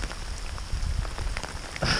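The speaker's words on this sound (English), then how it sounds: "this rain is relentless and it's cold and it's coming down harder and harder" Cold, heavy rain pours steadily on a Washington trail, a dense continuous patter with scattered louder drops close by and no voices.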